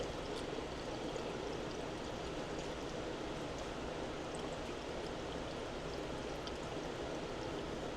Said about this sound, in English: I want to bottle a couple bottles